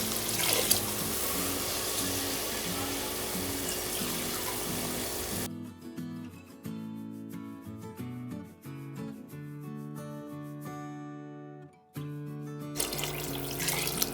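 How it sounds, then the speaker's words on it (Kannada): Water pours steadily into a pot of rice while a tomato bath is being made, a loud continuous rush lasting several seconds. Background music then takes over before the pouring sound returns. "ಇವಾಗ ನೀರು ಹಾಕೊಳ್ಳಿ."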